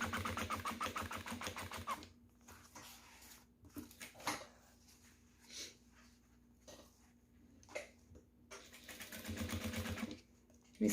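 A sewing machine runs in steady bursts as it stitches black quilted matelassê fabric, a fast, even mechanical whir that is loud at the start and end with quieter, intermittent gaps between.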